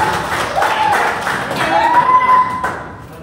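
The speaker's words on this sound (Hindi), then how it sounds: "तालियां हो जाए यहाँ पर हिमांगी के लिए" Audience applause for a presenter at a tournament presentation: a loud, sustained burst of clapping from a nearby crowd, with some whistling or cheering mixed in before it tapers off.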